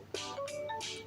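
A phone rings as a call to the dentist goes through, giving short repeated electronic trills, faint and close, with no talk over them.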